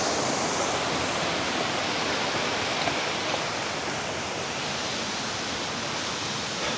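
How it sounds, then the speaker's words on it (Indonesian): Waterfall at Kedung Kepiur in the Cangar mountain forest, a steady, loud, unbroken roar of falling water that fills the whole stretch with dense, broadband rushing noise and no voices. "ini namanya area air terjun Kedung Kepiur"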